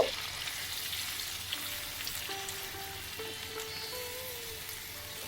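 Onion, ginger and garlic paste frying in oil, with a moderate continuous sizzle and occasional stirring scrapes; faint tonal background hum, no speech.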